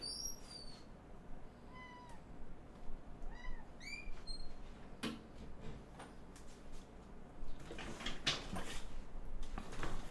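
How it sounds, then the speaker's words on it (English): Cats meow insistently at a door, several rising and falling cries in quick succession, fairly close, followed by rustling and handling noises as the door is dealt with. "I gotta open the door for these goddamn cats."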